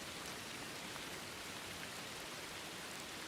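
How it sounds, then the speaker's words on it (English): Rain in the Viking game Viking Frontiers, a dense, even hiss of steady rainfall on surfaces, constant and quiet without change or voices. "Wow, the rain's pretty loud, by the way."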